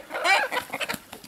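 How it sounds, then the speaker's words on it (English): A few short rooster calls and clucks close by in an off-grid chicken run, with a longer crowing call at the start followed by scattered quick squawks. "There's roosters doing what roosters do."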